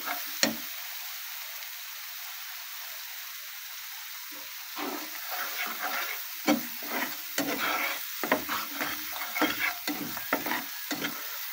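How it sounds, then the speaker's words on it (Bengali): Spices being stir-fried in a pan for a small-fish curry with lemon leaves, a quiet background sizzle broken by repeated scraping and stirring strokes that grow busier and more rhythmic in the second half. "খুব ভালোভাবে কষাতে হবে মশলা।"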